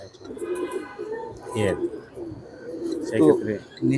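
Racing pigeons at a pigeon farm give repeated soft, throaty coos with a few brief chirps, close by and moderately loud, with a murmur of voices in the background.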